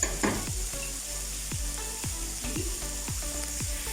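Chicken sizzling in a hot pan for chow mein, a continuous close frying hiss broken by regular scraping strokes of a spatula, roughly twice a second.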